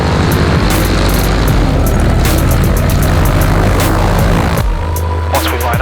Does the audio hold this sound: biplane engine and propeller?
yes